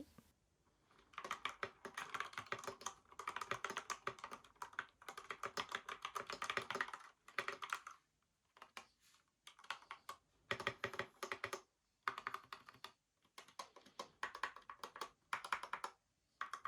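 Rapid clattering keystrokes from a modded RK61 mechanical keyboard with matcha keycaps, in bursts with brief pauses, close and crisp, no voices.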